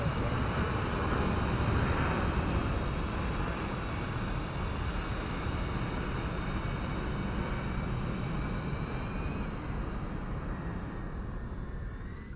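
An aircraft engine runs in the DCS flight simulator game after start-up, a continuous, even roar with a faint high whine that slowly eases slightly in loudness.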